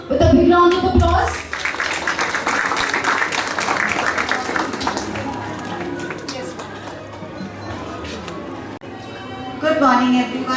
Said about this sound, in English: Let's all welcome her with a big round of applause.